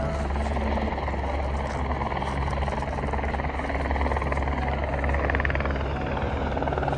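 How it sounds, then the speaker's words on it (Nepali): A helicopter on a mountain trek route near Gosaikunda, Nepal, at around 4380 m, taking off, its steady loud rotor drone and low thudding filling the air throughout. "यताबाट हेलिकप्टर उड्न लगाएर छ"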